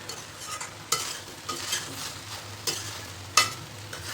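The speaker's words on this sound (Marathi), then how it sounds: "त्याला 3-4 मिनिट हलवत राहायचे" Crispy soya chilli frying in a pan is stirred with a utensil, giving sharp scraping clacks at irregular intervals over a constant soft sizzle, close and with no talking.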